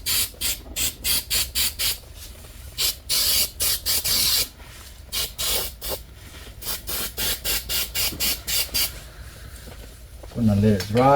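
A pump sprayer releases adhesive in short repeated hissing bursts, some quick and some longer, while restoring a 2007 Toyota Highlander. The bursts stop briefly near the end, where a voice is heard.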